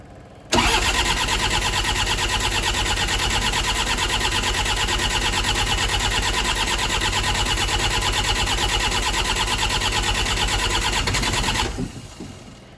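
A New Holland LS170 diesel engine roars loud and steady at wide-open throttle with a rapid, even pulsing beat. It cuts in abruptly, holds for about eleven seconds, then stops.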